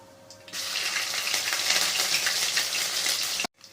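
Cumin seeds and garlic paste sizzle loudly in hot oil for a tomato curry, a steady dense crackle that starts sharply and holds for about three seconds before cutting off abruptly.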